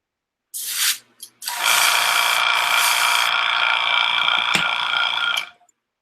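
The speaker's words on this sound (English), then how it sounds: "I hate cleaning out the airbrush." Close, loud airbrush spraying as it is flushed clean, a short hiss and a brief sputter giving way to a steady, continuous rushing spray with a faint tonal whine, then cutting off.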